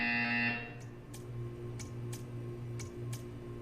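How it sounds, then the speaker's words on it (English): A short, bright buzzer tone sounds at the start of a video game scene, then a run of faint, evenly spaced ticks over a steady low electronic hum. "You will hear a buzzer."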